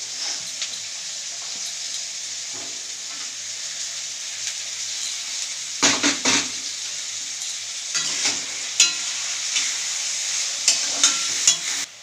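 Beans, potatoes and peas stir-fry in a hot wok, giving a steady loud sizzle with scraping stir strokes and sharper clatters toward the end, with no voices.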